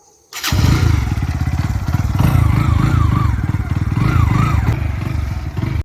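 Motorcycle engine kicked into life after brief silence, catching abruptly and settling into a loud, close, chugging idle with rapid thumping pulses in a village at evening.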